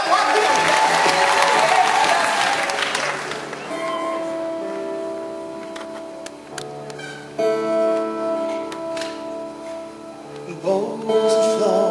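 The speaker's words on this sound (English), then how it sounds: "Give yourselves a round of applause." An audience at a concert applauds loudly for a few seconds, then the clapping thins out as sustained music takes over.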